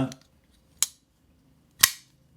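Two sharp metallic clacks from the small blade of an Alliance Designs Jasmine folding pocketknife snapping shut, separated by about a second, close and crisp with nothing else around them.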